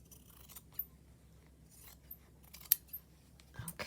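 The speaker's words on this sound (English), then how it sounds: "So let's go ahead and cut a piece of this." Scissors snip through fabric for a 6-inch fabric journal, a handful of sharp, separate cuts spaced across a quiet room, close and crisp with no talking.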